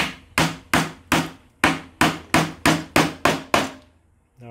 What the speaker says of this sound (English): then hammer it down